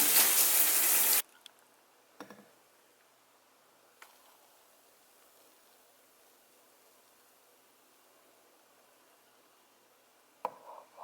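Shower water pours loudly for about a second and then shuts off, leaving a quiet room with a few soft knocks and clatters.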